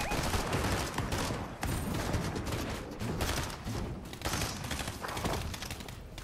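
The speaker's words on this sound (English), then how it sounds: "Okay, we're just shooting now, I guess." Dense, continuous video-game gunfire from a Fortnite Duo Cash Cup match, a rapid stream of shots and thuds filling the whole stretch with only a brief dip near the middle.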